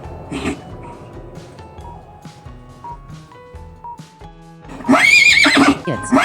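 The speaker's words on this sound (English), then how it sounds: "It's horse." A horse lets out a loud, close whinny near the end, following quieter musical tones and soft background sounds.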